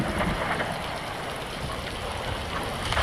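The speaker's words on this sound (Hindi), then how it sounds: "अब धीरे धीरे बारिश और बढ़ती जा रही थी।" Rain falling steadily in a jungle, a continuous dense hiss of drops with a soft wind-like wash, even in level throughout with no voices.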